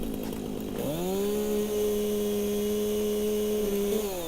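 A chainsaw in the video game Satisfactory revs up and holds a loud, steady buzzing drone for several seconds before easing off slightly at the end.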